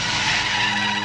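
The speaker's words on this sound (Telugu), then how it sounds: "డ్రైవర్ కారాపు" A car brakes hard to a stop in a Telugu movie scene, its tires skidding with a sustained, loud, broadband screech that fills the whole moment, with no talk over it.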